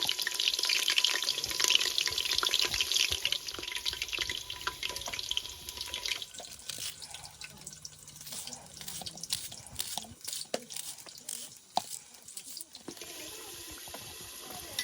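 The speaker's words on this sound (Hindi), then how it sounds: "अभी इस मस्टर्ड ऑयल में हम फ्राई कर लेंगे क्वींस एप्पल" Quince apples sizzle and hiss in hot mustard oil, a steady bright frying crackle for several seconds, then a rougher, more broken spatter with scattered pops and clicks.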